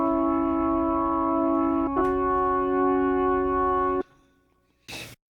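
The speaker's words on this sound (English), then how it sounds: "I would say that would be a virtual B3 Hammond" A sustained virtual Hammond B3 organ chord played on a MIDI keyboard holds with rich drawbar harmonics, briefly shifting partway through, then cuts off, followed by a short noisy burst.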